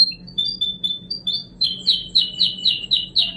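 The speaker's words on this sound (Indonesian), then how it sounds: "suara burung" Birds chirp close by in a rapid series of high, bright tweets that speed into a steady repeating call over a faint low background hum.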